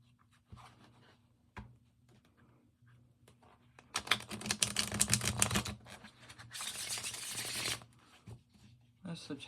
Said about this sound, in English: I'll show you how it shuffles.